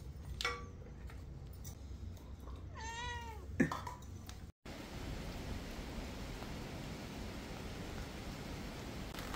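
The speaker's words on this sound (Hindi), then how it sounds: "शाम को 5 बजते बजते फिर बारिश शुरू हो गई है। तो ये सिलसिला बारिश का लगातार जारी है" Evening rain falls steadily in a village in Uttarakhand, a dense, even hiss that fills the last half alone. Before it, a cat meows several times at close range over quieter background rain.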